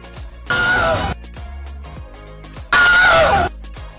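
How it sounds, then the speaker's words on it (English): A scream sound effect placed in a video edit plays in two loud, sustained, harsh bursts separated by quieter gaps with faint clicks and thumps. "Looks like the scream's settled there."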